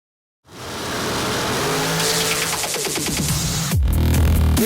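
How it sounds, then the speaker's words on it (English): Drag racing cars at an IHRA Nitro Jam event roar loudly off the line, a sustained engine blast that builds and swells with a sharp rising sweep near the end as another car launches. "This is old school drag racing."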